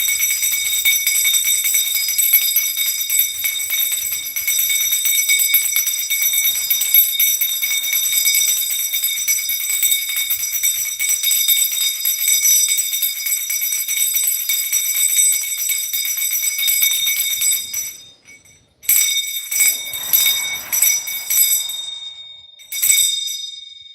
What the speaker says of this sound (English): I feel like ringing my bell